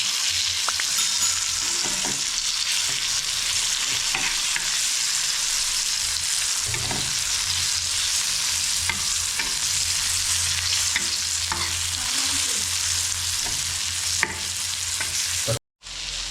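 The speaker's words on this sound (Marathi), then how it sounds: "अशा तऱ्हेने आपले बांगडे फ्राय मस्तपैकी झालेले आहेत" Mackerel (bangda) sizzling steadily as it fries in a pan, a dense continuous crackle of hot oil with occasional stirring, close and loud, no voices.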